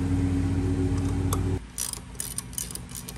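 A ratchet with an 8mm socket removes the idle air control valve from a 1987 Foxbody Mustang. A steady low hum gives way to quick bursts of sharp mechanical clicking, close by and without speech.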